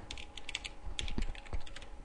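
Close, steady typing on a computer keyboard while entering programming code, a quick run of light key clicks and taps with no voices.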